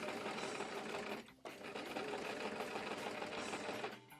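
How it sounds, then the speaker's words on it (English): Sewing machine stitching side seams and inner arm seams on a 70s punk ballgown, a loud continuous mechanical whir close by that briefly stops and starts again. "then sewed the side seams and inner arm seams all in one go"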